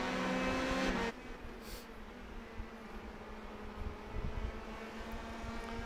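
Open-wheel race cars in a racing video game at Indy: a loud engine note cuts off sharply, then a quieter steady drone of cars follows, with faint whooshes of machines passing.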